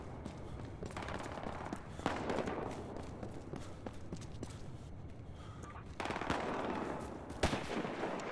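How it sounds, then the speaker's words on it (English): Automatic gunfire rattles in the Battlefield Hardline multiplayer game, with bursts of shots and single cracks coming from a moderate distance over an ambient background, with no voices. "They're shooting at each other."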